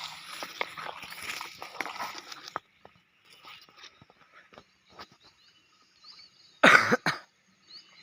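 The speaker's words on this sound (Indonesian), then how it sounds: "Aduh, batuk ya" A person coughs twice in quick succession, loud and close, near rice fields being guarded from birds, after a stretch of rustling, footsteps and quiet outdoor ambience.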